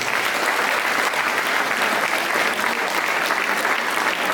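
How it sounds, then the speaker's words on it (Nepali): An audience at a motivational event in Palpa, Nepal claps steadily and loudly as a mark of respect, with dense, continuous applause filling the whole stretch and only faint crowd murmur beneath. "ताली बजाएर सम्मान गर्नुहोस्"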